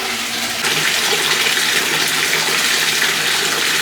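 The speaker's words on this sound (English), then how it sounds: "I'm about to wash my face" Tap water runs steadily into a bathroom sink for face washing, a continuous broadband splashing hiss that swells after the first half second and stays loud and close throughout.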